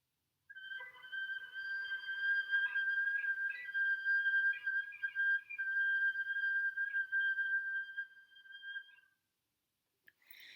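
A sustained whistle tone, clear and steady with a slight waver, holds for several seconds alone in a quiet room before stopping.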